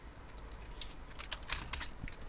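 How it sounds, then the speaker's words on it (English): Keys tapped on a computer keyboard while running Windows software, a short burst of quiet, fairly close clicks in an irregular rhythm over a steady room hiss, with no voice. "So I'm gonna press Windows key and type snip."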